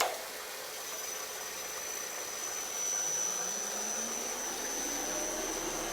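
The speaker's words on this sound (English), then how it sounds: "The feed belt is going to feed it into the feed rollers, and then inside the feed rollers there's a drum that rotates in there" Wool fiber opening machine running in a fiber mill, feed belt carrying fiber into feed rollers and a rotating drum, giving a steady broadband whir with a faint high whine, continuous and fairly close.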